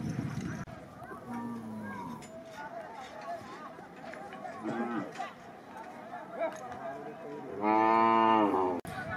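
A calf runs in a bullock cart race at a village fair, with loud cattle moos and bellows up close, a long bawl near the end, and people talking and shouting over it.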